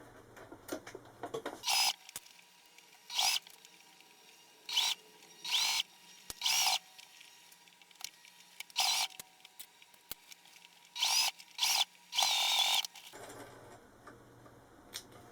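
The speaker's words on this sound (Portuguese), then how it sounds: "eu vou passar uma costura aqui com um pezinho de máquina. É só encaixar aqui na máquina e passar a costura em todo ele." A sewing machine with a presser foot stitches around a small fabric bunny basket in repeated short, sharp bursts separated by quiet pauses, close and fairly loud.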